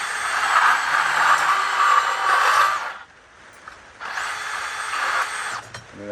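A small band saw cuts through copper in two whining bursts, a high, steady motor-and-blade drone that drops out for about a second between cuts, loud and close, with light clatter at the end.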